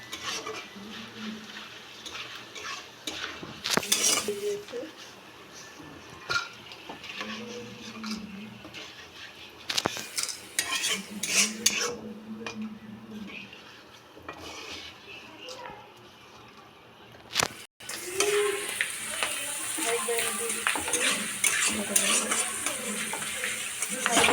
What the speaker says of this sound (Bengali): তেলটা আমার গরম হয়ে গিয়েছে। এবার আমি পাঁপড়গুলো দিয়ে দিচ্ছি।